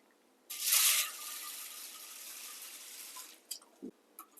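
Water gushes from a faucet into a pot for boxed Kraft mac and cheese, a strong burst at first settling into a steady flow for about three seconds before it stops, followed by a few small clinks.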